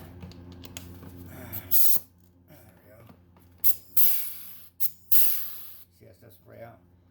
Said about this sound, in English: Spray out. That oils your gun, you know, your rivet gun.